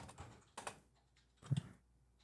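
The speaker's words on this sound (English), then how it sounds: "You hear the clicking and the tapping in the background." Keyboard typing comes from a radio studio: faint, scattered taps and clicks in three short bursts separated by near silence, quiet and in the background with no talk.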